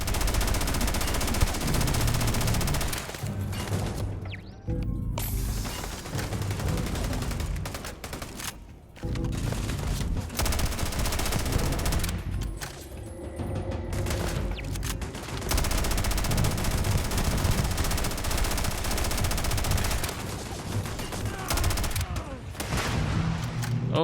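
Sustained, dense gunfire in the video game Starfield, loud rapid bursts and booms overlapping almost continuously with only brief gaps, while someone talks over it at times.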